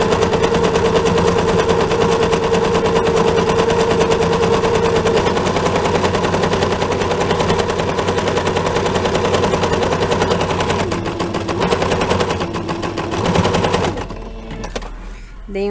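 A sewing machine runs steadily while stitching a baby stroller cover, a loud, close, continuous mechanical whir with a rapid needle rattle. Near the end it slows and stops, with brief pauses and restarts for the backstitch.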